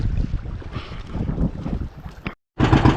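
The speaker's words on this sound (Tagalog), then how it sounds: "Papanda rin natin yung makina." A boat's engine runs at sea with a low, steady throbbing rumble mixed with wind buffeting the microphone, cutting to a brief silence before resuming loudly.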